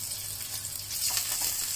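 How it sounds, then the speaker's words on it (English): A sea bass fillet sizzles steadily in a hot frying pan, a close, bright crackling hiss with a few small pops and a gentle swell near the end. "let it fry for about 2 minutes on each side"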